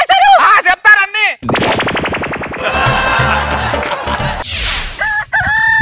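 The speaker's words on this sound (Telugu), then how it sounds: "ఏమే కోడి కూసిందిలే" Amid a noisy comedy sketch mix, a rooster's crow appears as rising and falling calls at the start and end. Loud rapid percussive bursts resembling gunfire fill the middle.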